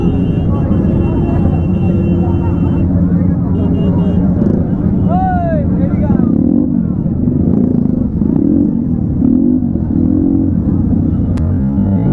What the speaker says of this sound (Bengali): ছাপড়ি বাইকের আওয়াজ সহ্য হচ্ছে না